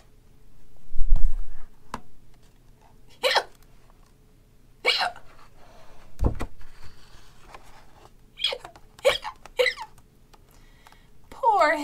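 A voice imitates hiccups while reading a children's story about a hippo, giving several sharp, abrupt hiccup sounds at irregular intervals with some spoken narration between them.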